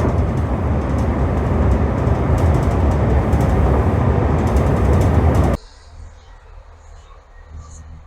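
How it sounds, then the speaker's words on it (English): A train rushes past close by in a loud, steady roar that cuts off abruptly, leaving faint outdoor ambience behind. "Oh, train going by the look of it."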